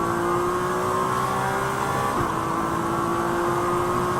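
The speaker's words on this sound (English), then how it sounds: "Henry Hummel, we ride on board with now down to turn 7" An on-board Ferrari Challenge race car in qualifying at Sonoma holds a loud, steady engine whine close up, with a brief shift or blip midway and no talk.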